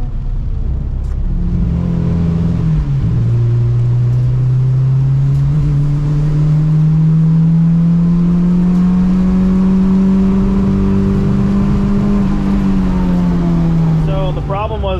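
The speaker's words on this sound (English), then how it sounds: "my car's still fucking misfiring" A misfiring car engine revving hard at an autocross event, loud and close throughout with a sustained droning whine that climbs slowly and then eases, the roar continuous and rough.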